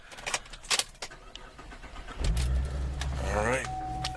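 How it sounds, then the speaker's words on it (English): A 2011 Chevrolet Camaro RS is started up close after some clicks and jangling keys, the engine catching and settling into a steady idle with a faint chime, while someone talks near the start. "I'm gonna go ahead and get the car started now"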